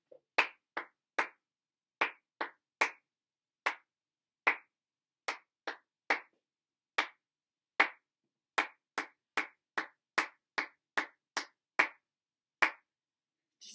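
Hands clap a rhythm from memory during a ukulele lesson, about two dozen crisp, close claps in uneven groupings with short gaps, no talking over them.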